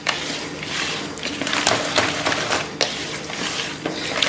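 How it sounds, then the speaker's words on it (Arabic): Semolina dough for harcha, made without milk, butter or yeast, is mixed gently by fingertips in a bowl: soft, gritty rubbing and rustling with light scattered taps, close and continuous. "غنخويهم هكا مره واحده وغادي نبدا نحرك"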